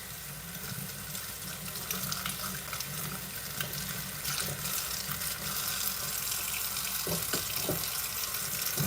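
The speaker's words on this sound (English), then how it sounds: "I got almost all of these dishes done." Dishes being washed under a running kitchen tap, a steady rush of water with occasional clinks and knocks of plates in the sink.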